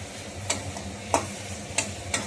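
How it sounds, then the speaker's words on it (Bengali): Masala with mushrooms being sautéed in oil, heard as a soft, low frying hiss broken by four brief, regular scrapes of a spoon stirring the pan, with no talking. "আমি অনেকক্ষণ ধরে এটা কষিয়ে নিয়েছি।"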